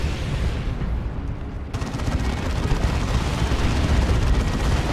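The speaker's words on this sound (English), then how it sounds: "Beamy Death Gun getting shots on Dreadnoughts." Weapons fire in a Space Marines versus Orks match of the strategy game Dawn of War 2: a dense, continuous roar of guns, blasts and explosions, loud and unbroken, with a sharp surge partway through.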